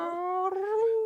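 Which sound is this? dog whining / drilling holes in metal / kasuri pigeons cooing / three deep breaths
dog whining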